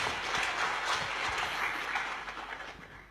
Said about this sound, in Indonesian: Kita beri tepuk tangan saudaraku.